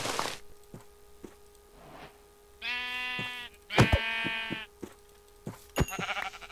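Blocky sheep in Minecraft bleat in a few separate harmonic calls, close and fairly loud, with short game clicks and thuds in between and a faint steady hum underneath.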